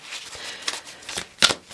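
Tarot cards are shuffled by hand in a series of quick, crisp riffling bursts, close and fairly loud, with short pauses between the flurries and no talking.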